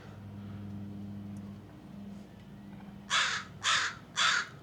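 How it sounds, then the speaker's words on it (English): A crow perched overhead gives three loud, harsh caws in quick succession near the end, after a low engine hum from a cod jigging boat being readied. "That crow up there is being quite vocal."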